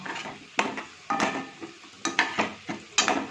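Food fries in a pan over low gas in a home kitchen, a soft steady sizzle beneath repeated clinks and scrapes of a utensil stirring and tapping the pan at an uneven rhythm. No one speaks.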